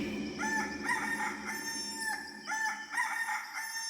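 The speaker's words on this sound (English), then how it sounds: "he heard a cock crowing in the distance and realised there must be a farmyard nearby" A rooster crows from a distance, a few faint cock-a-doodle-doo calls heard alone against a farmyard backdrop.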